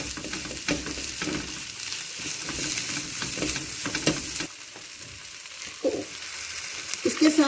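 A spoon stirs chicken bread roll filling in a hot pan, giving a steady sizzle with scraping and clatter, continuous and close, with no voices over it.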